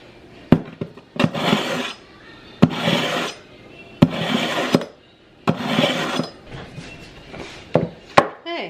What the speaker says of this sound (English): I'm going to start with sharpening my knife.